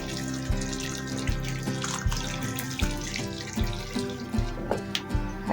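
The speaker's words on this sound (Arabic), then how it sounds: "هنزل عليها هنا بالميه السخنه" Hot water is poured from above onto pasta and spices sitting in a cooking pot, a steady splashing trickle with regular low knocks, continuous and fairly close.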